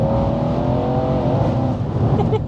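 A Mercedes C63 AMG with a biturbo engine, tuned to 800 bhp, pulls hard in gear with a loud, continuous engine roar and rising harmonic tones that build steadily across the clip.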